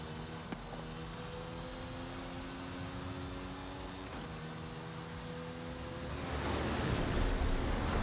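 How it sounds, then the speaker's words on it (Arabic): A cargo plane in Forza Horizon 5 passes as a steady broadband roar that swells louder toward the end, with no speech. "C'est le dernier avion cargo qui fait la course avec la MG1."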